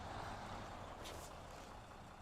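A heavy truck in the off-road driving game SnowRunner gives off a steady broadband engine roar and hiss, faint overall, with a brief higher whoosh in the middle.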